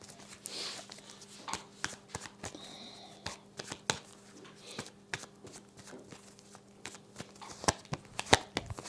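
Tarot cards are shuffled and flicked, producing a series of sharp, irregular papery snaps over a faint background hum.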